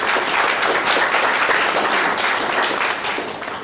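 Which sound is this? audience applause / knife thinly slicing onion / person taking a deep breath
audience applause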